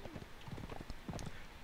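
Horse hooves clip-clop at a steady trot during a ride in the video game Conan Exiles, the repeated thuds fairly close and continuous with a faint background wash.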